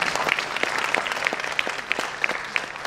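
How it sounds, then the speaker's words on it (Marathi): An audience applauds dance performers at a stage event, with steady, dense clapping from many hands throughout, fairly loud and without speech. "आपण पुन्हा एकदा जोरदार टाळ्या वाजवून"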